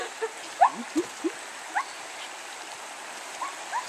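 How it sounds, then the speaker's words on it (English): Creek water flows softly beside a campsite near a cabin, a steady quiet rush with scattered brief splashes and bird-like chirps over it, no voices. "Right by the creek."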